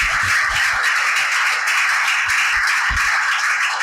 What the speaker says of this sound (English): Let's give a big clap.